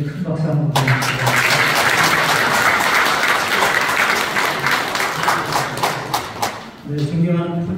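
Sustained loud applause from an indoor audience at a community social security council evaluation and awards ceremony in Pocheon, steady and dense for several seconds before fading, with brief talk at the start and end.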